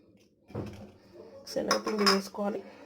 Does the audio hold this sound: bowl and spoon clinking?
yes